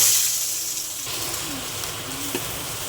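Chopped onion, one large onion, dropped into hot oil with mustard seeds and chana dal in a pan, giving a steady close sizzle with faint stirring at home.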